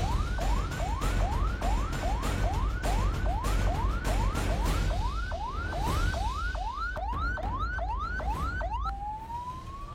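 An ambulance siren stuck in jammed traffic, its rising wail repeating in fast, even cycles before shifting to a long steady tone, loud and continuous over a dense rumble of engines and road noise.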